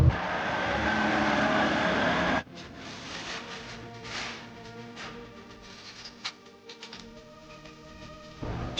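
Engine of an armored vehicle under restoration cranks and catches, a loud broadband burst settling into a lower, uneven running rumble with sharp clanks and a rising surge at the end.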